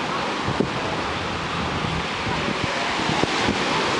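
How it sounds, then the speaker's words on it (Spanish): Strong sea surf at Quizandal beach near Puerto Cabello, Venezuela, a constant loud roar of waves mixed with heavy wind buffeting the microphone, with faint thumps scattered through. "Y el mar está fuerte."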